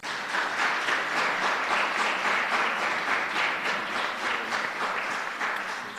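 Sustained crowd applause from the audience at the grand final of a national tourism debate, steady and dense clapping at even loudness throughout with no talk over it.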